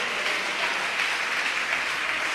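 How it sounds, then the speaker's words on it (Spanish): A Pentecostal church congregation applauds during a sermon, producing a steady, even wash of many hands clapping at once at moderate volume, with no single claps standing out. "Dele el aplauso fuerte al Señor."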